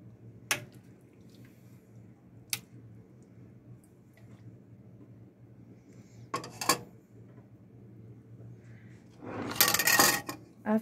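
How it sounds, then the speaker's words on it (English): Zucchini relish being spooned into glass jars produces a few sharp clinks of spoon against glass, spaced seconds apart, then a louder wet scraping and sloshing near the end over a quiet kitchen hum. "it's time for me to go ahead and jar this up, put it in the jars."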